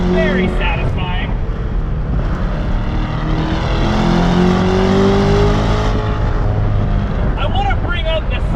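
A 2021 Chevrolet Corvette C8 Convertible engine is revved hard, its tone climbing loudly through the middle of the clip before easing off, with a voice talking near the start and end.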